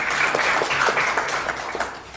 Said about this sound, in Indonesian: tepuk tangan sekali lagi buat Tuhan kita.